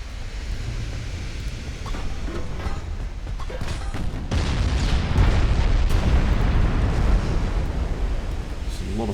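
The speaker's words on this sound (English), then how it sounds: "Ammo detonation in one of the secondary guns." A secondary gun's ammunition detonates aboard a warship in Ultimate Admiral Dreadnoughts, a deep rumbling boom that swells midway and holds as a heavy roar over continuous battle noise, with a voice talking through it.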